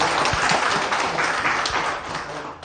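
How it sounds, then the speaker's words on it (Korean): A lecture audience applauds in a hall, a dense, sustained wash of many hands clapping that stays loud and slowly tapers toward the end. "아, 그 박수."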